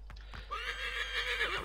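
A horse in the video game Assassin's Creed 3 gives a single loud whinny after a few quick hoof clops, the neigh rising and trailing off over about a second.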